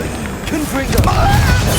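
In the video game Hogwarts Legacy, a Confringo fire spell erupts into a deep, rumbling blast that swells midway and keeps booming to the end, with a voice speaking over the start.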